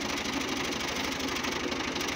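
A tractor engine runs in a village field, giving a steady, rhythmic mid-pitched chugging that knocks evenly throughout at moderate volume with no voices over it.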